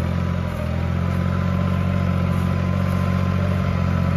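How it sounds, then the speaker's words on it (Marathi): A Swraj Target 630 tractor ploughing a field, a steady low diesel engine drone running continuously at close range without pause. "हे ट्रॅक्टर कुठल्या पद्धतीने चालतंय किंवा ऑपरेट होतंय हे आपण पाहू शकताय"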